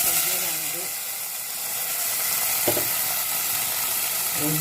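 Mustard seeds crackling in hot oil with green chilli and curry leaves added, a steady close sizzle with a few sharp pops and faint clatter.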